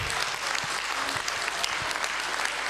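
An audience applauds Lala Sargsyan at an NCS career-stage event, with dense, steady clapping from a crowd that carries on evenly throughout.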